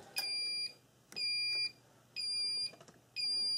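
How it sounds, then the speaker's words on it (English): A shrill electronic alarm from an ammunition reloading press monitor beeps four times in a steady rhythm, each tone lasting about half a second, loud and close with faint clicks between. "once I do, you'll hear this alarm"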